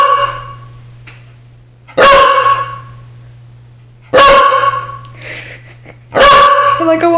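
Three loud, sharp barks from a small corgi, spaced about two seconds apart, close by, with a steady low hum underneath.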